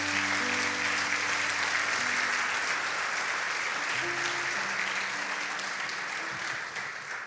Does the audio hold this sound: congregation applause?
yes